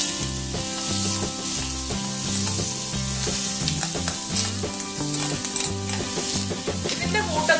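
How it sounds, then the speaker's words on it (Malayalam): Finely chopped ginger sautés in two tablespoons of coconut oil, with a loud, close sizzle and the steady rhythmic scrape of a spoon stirring the pan. "നമുക്ക് 2 ടേബിൾ സ്പൂൺ വെളിച്ചെണ്ണയിലോട്ട് ഈ ഇഞ്ചി കൊത്തി അരിഞ്ഞ് വെച്ചേക്കാണ്"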